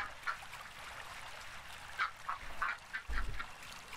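Ducks quack in a video game, with several short, bright calls in an irregular run over steady background game sound, then a low thump near the end.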